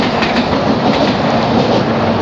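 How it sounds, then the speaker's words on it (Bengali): A train rolls past right beside a rough roadside track running along the railway line between Bidhannagar and Kolkata stations, with a loud, steady rumble and rhythmic clickety-clack of wagons throughout, nearby and continuous. "আর পাশ দিয়ে চলে যাচ্ছে একটা ট্রেন।"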